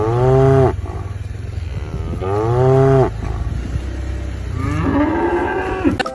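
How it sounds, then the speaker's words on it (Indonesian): A black-and-white cow in Jurassic World Evolution 2 gives two long, loud, close moos, each with a sliding tone, followed by a rougher, lower bellow near the end. "Ada satu ekor sapi nih teman-teman."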